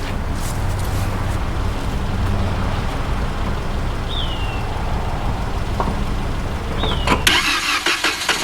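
A car engine cranks on and on, churning steadily as it struggles to catch with carb cleaner sprayed in, then sputters near the end as it almost fires.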